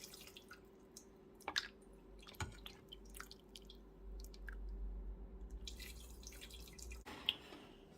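Sauce poured through a sieve into a saucepan in a home kitchen, heard as quiet, irregular drips and soft wet squishes with a few sharper ticks against a low steady hum.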